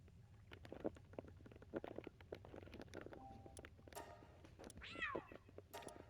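Meowth, a ferocious but cowardly cat creature in the game Palworld, lets out several short cat cries and a rising, wavering meow among clicky game sounds, over a steady low hum.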